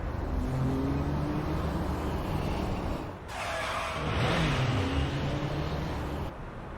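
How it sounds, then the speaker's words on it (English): Car tires screech during a Guilty Gear Strive story cutscene, a drawn-out squeal rising over a dense engine and road rumble, then dropping away briefly before the noise surges back. "I can hear tires screeching."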